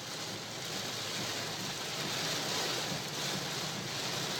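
Heavy rain drums steadily and densely on a moving car, a constant wash of noise with no breaks and no voices.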